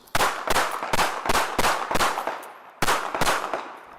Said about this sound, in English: 8 gunshots.